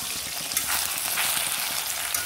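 Dried red chillies and coriander seeds frying in hot oil for gongura chutney, a steady close crackling sizzle throughout with light stirring, no voices.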